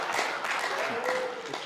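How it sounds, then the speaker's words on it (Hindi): Audience clapping at a Hindi kavi sammelan poetry reading, a dense, steady patter of many hands running the whole time at moderate level. "सर ताली मत बजाओ, उड़ जाएगी।"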